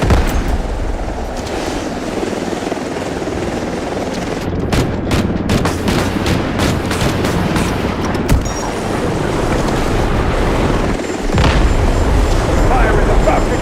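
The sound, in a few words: guided missile strikes and explosions in Delta Force video game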